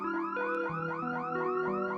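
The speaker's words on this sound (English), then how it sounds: "His car alarm was blaring." A car alarm blares in the middle of the night, a loud, steady cycling electronic wail with repeating rising tones and no other sounds.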